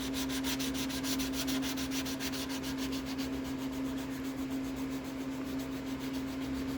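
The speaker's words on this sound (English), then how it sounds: "this 220 I'm using isn't really made to be wet sandpaper. So as I use it, it kind of deteriorates a bit." A Mandalorian helmet is wet sanded by hand with 220 grit sandpaper, a continuous close rhythmic rubbing and scraping that strokes quickly at first and then turns smoother, over a steady background hum.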